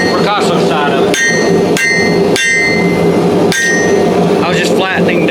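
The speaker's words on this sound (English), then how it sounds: "I was just flattening down the where it got pinched here. That's all I was doing at the anvil." Steel seax blade hammered on an anvil to flatten a pinched spot, about five sharp ringing metallic blows at irregular intervals, close and loud over a steady workshop hum.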